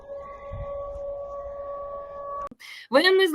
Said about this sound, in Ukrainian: Сирена над Энгельсом все еще